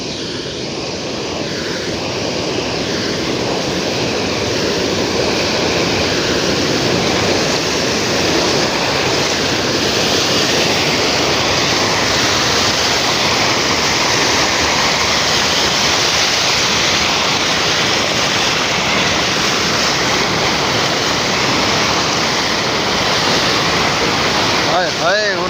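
Heavy rain with running water, a dense, loud and unbroken roar of falling water that holds at full strength for about twenty-five seconds.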